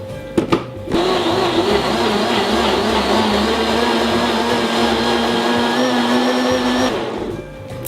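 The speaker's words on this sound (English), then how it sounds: "We're gonna put on our lid, and we are going to blend." A blender whirs loudly and steadily for about six seconds while blending a banana and bone broth smoothie, with a few clicks before it starts and the motor winding down at the end.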